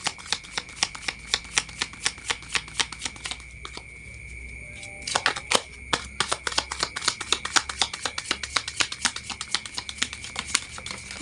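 Tarot cards being shuffled and flicked in a rapid, steady run of crisp clicks and riffles, close and clear, with one brief pause partway through and no talking.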